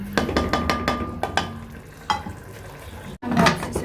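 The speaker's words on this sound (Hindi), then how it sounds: "हम इसको हिला लेंगे।" Matar keema, minced meat with peas, stirred in a pot: a series of close scraping, clinking spoon strokes against the metal with a soft sizzle underneath, followed by a brief sharp clatter near the end.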